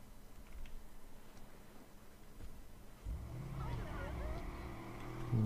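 Car engine in the video game Watch Dogs, a low rumbling drive that swells louder partway through, with a voice talking over it throughout.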